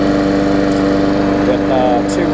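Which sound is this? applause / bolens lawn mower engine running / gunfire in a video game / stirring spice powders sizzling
bolens lawn mower engine running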